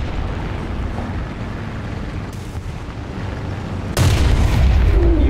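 KV-2 tank cannon in War Thunder fires a heavy, sudden boom near the end, following a steady low engine rumble; the shot is loud and close, with a lingering roar afterward.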